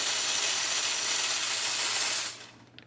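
Espresso machine steam wand on a Lelit Bianca V3 dual boiler hisses loudly and steadily, then cuts off abruptly near the end, leaving a quiet tail with a faint click.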